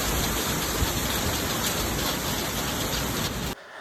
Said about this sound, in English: you may hear thunder and a lot of rain going on throughout this video